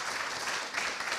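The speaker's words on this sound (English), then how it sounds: "Big round of applause." Audience applause at an awards ceremony for an affordable nutrition scale-up challenge, a short burst of steady, dense clapping filling the room without pause.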